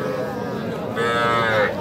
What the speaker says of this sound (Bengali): এইটাও কিন্তু একটা বকনা বাছুর দর্শক।